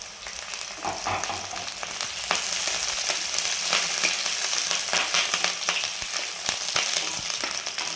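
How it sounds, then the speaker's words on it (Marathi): Chopped onion sautéing in a pan, a loud, steady crackling sizzle with scattered stirring scrapes. "आणि एक मिनिटभर फक्त आपल्याला कांद्याला परतून घ्यायचं आहे"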